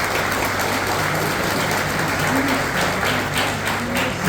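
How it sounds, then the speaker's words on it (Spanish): An audience claps at a Guaraní language and culture anniversary celebration, a dense, steady patter of many hands that continues evenly without pause, with no voices standing out. "Y también para eso les pido un aplauso fuerte"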